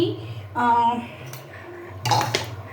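A metal wok clanks and scrapes on a gas stovetop, a ringing knock early and a louder clatter near the end, close and distinct.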